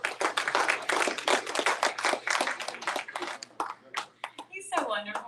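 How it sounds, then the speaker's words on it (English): Indoor audience at a Humphreys County candidate forum claps steadily for several seconds, dense and close, with a voice speaking near the end. "please give a Delta round of applause for Greta Kemp Martin"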